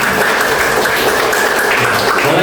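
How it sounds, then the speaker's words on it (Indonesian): A classroom of students applauds in a dense, steady clatter of many hands clapping together, loud and continuous throughout. "tepuk tangan untuk semuanya"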